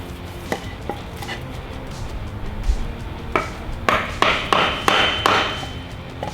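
A hammer taps a boat trailer's wheel bearing holder into place through a piece of wood; scattered light knocks give way to a quicker run of sharper, ringing blows, close and alone.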